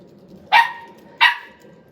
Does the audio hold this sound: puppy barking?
yes